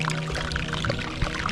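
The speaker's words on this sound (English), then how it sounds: "Oh, this iceberg's making crazy noises. It sounds like it's being deep fried." An iceberg melting in cold Alaskan seawater gives off a dense, steady crackle and fizz of popping bubbles, like oil deep frying, heard close up without any voices.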